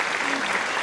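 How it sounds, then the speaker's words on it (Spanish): Audience applauding at a Spanish-language talk show taping, dense steady clapping throughout a brief burst. "Un aplauso, por favor."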